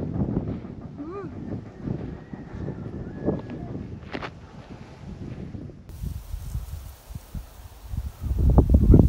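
Wind gusts and buffets the microphone on an open slope of Mount Mokoto in the Gambier Islands, a continuous rough rushing with rustling and scuffing, growing louder toward the end.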